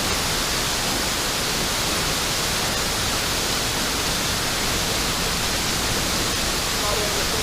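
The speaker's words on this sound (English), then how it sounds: "due to the noise of the waterfall" Waterfall at Walters Falls, Ontario, a steady, dense broadband rush of falling water that fills the whole clip at constant loudness, close and continuous with no breaks.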